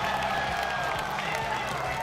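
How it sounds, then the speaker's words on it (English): At a World Poker Tour table, a tournament crowd erupts in a sustained roar of cheering and clapping, a dense continuous wall of noise with voices shouting throughout. "Crowd goes wild, and how could they not?"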